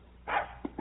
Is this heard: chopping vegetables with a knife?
no